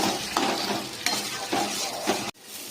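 Onion, capsicum and tomato fry in hot oil for soya chunks Manchurian, a steady close sizzle broken by a few louder stirring scrapes, then cut off abruptly near the end.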